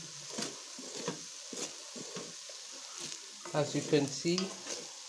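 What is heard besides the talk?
Chinese fried rice being stirred and fried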